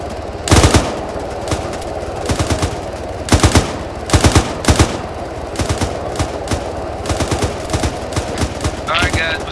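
Airsoft guns fire bursts of suppressing fire during a snowy winter milsim game, with rapid clusters of sharp cracks repeating through the scene at close to mid distance, with faint voices in the background.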